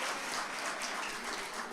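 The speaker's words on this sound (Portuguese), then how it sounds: "Salva de palmas." A church congregation clapping during a celebration service, a continuous dense patter of many hands at moderate volume that stays even and carries on without pause, with no speech over it.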